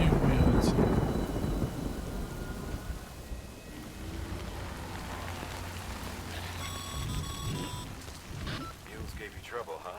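Rain and rolling thunder in the video game Death Stranding; a loud thunder crack opens, then a steady rain hiss continues with background rumble and a few tonal game sounds near the end.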